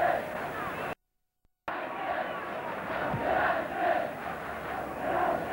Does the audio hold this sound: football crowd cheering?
yes